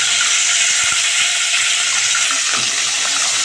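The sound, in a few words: asafoetida (hing) added to hot oil, sizzling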